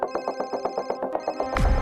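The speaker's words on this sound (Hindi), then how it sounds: "कोई नहीं उठाएगा आज फोन।" A telephone rings in a quick repeating electronic trill, fairly close and clear, with a brief rustle or thump at the end.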